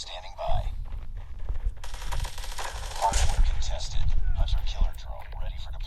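Gunfire in the Call of Duty Mobile video game, rapid bursts of automatic shots crackling close and loud across the whole stretch, mixed with in-game effects and a voice talking over them.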